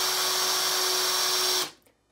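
A Ryobi cordless impact driver spins free on a small 1.5 amp-hour battery, a steady, high motor whine that holds for about a second and a half, then stops abruptly and dies into quiet.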